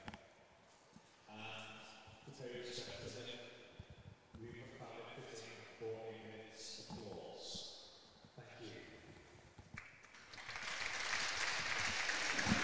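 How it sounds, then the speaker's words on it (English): A minute's applause fills an ice hockey arena before a Widnes Wild versus Solihull Barons game. Announcer speech comes first, then loud, sustained clapping from the crowd and both teams rises and continues. "we will honour him with a minute's applause"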